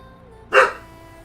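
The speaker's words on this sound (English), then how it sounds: "He's barking now." A single short dog bark, fairly close, standing out once against a quiet room with a low background hum.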